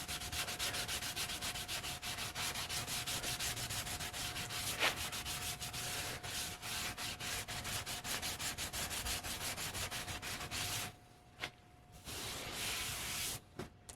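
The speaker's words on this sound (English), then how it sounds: "I'm going to buff the whole thing and see if there's any serious low spots. I'm just using steel wool." Steel wool buffing a handmade prop sword coated with glazing putty, a steady close scratchy rubbing that runs continuously, then stops near the end with a few brief strokes.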